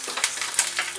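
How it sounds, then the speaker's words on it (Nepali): Cumin, dried chillies, whole ginger and unpeeled garlic cloves frying in oil for a momo jhol achar, a close, steady sizzle with quick stirring scrapes and small pops. "यी राखेको सामग्रीहरुलाई एकछिन चलाएर भुट्ने"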